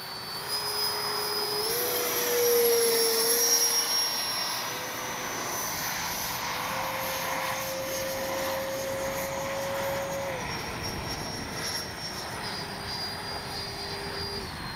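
A Freewing 90mm F-4 Phantom II RC jet flies in to land, its ducted-fan turbine giving a steady, loud whine with a high tone that rises and falls as it passes, heard alone outdoors.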